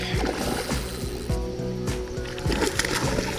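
A common carp splashes and thrashes in river water close by, a series of irregular wet slaps and sprays over flowing water.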